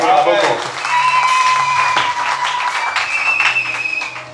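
Church congregation applauding, a loud, sustained wash of clapping with voices mixed in throughout.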